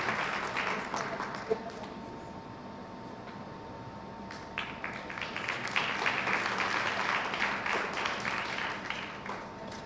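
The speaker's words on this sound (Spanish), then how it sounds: "Vamos a darles un aplauso por esa generosidad." An audience at a women's forum applauds a sponsor, a broad wash of many clapping hands that swells in the second half, with room noise and a low steady hum underneath.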